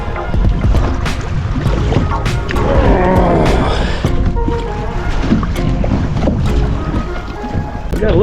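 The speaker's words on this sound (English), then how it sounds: "Got a little bit of wind." Wind buffeting the microphone outdoors on a fishing boat near an old nuclear plant on a cold day after a storm: constant loud rumbling gusts with clatter and knocks from the boat, and a voice speaking partway through.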